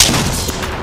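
Gunfire in Apex Legends rattles through a dense burst of loud, overlapping shots and booms, filling the whole short moment with no voices.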